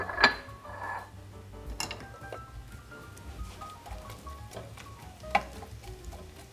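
Half an onion sautéing in a pan for a simple pasta sauce, a soft steady sizzle with occasional clinks and light stirring taps over a low background hum.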